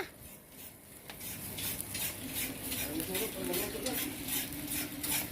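Meat grilling for a birthday, a steady crackling sizzle close by with scraping and stirring clatter of utensils, continuous throughout.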